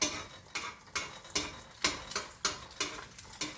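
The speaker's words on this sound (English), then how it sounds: "I'm going to bust the yellow in it, kind of" Egg yolk broken and stirred around in a pan beside grits, a quiet rhythmic series of about eight scraping strokes against a faint sizzle.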